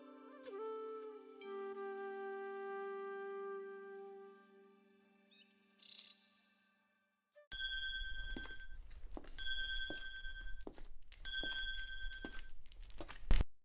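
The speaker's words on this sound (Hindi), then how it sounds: "ना कोई आया ना गया, पर घंटी हिल रही है।" A bell in an old house in a Hindi cartoon swings and rings by itself, first as a long sustained chime that fades, then as three bright repeated ding bursts over a rough rattling background.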